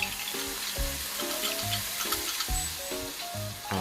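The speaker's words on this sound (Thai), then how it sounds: "เราก็ทำการผัดคลุกเคล้าไปกับกระทะเลยนะครับ" Chunks of canned tuna in their own oil are stir-fried in a pan, making a loud, continuous sizzle with repeated stirring and scraping strokes throughout.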